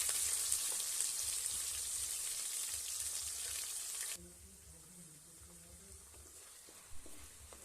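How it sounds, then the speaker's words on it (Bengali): Onions frying in a pan for a potato curry give a loud, steady sizzle that drops off sharply about halfway through. A softer, uneven crackle follows, with occasional stirring and one brief knock near the end. "পেঁয়াজটা ভালো করে ভাজতে হবে।"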